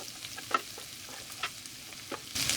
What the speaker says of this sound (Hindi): इन तीनों चीजों को हम अच्छे से मिक्स करेंगे। 1 से 2 मिनट हम इसको फ्राई करेंगे।